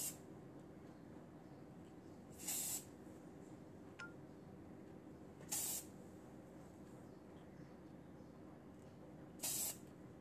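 Hair spray is sprayed onto braids in three short, sharp hissing bursts spaced a few seconds apart, close and clear over a quiet room hum.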